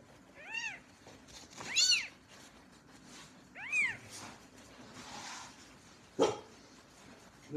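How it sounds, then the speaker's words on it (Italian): A dog in a home with newborn puppies gives several high, wavering yelping calls followed by one short, sharp bark, all close by and fairly loud, with no talking. "Chi sta abbaiando?"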